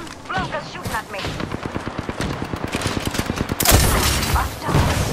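Rapid gunfire from the shooter video game Apex Legends crackles in dense bursts throughout, with a louder blast near the end, while a voice speaks at moments under the shooting.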